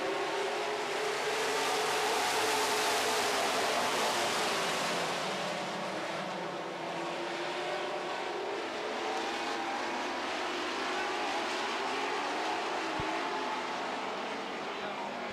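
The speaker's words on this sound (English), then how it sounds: "Top 8 cars setting quite a pace here" Super stock race cars roaring around an oval track, a continuous loud engine drone with shifting pitch as the pack circles nose to tail.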